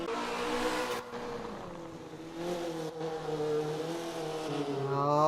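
A Mazda race car engine in a racing video game at Laguna Seca, a steady whining drone that drops with gear shifts and then climbs again, rising toward the end as the car accelerates.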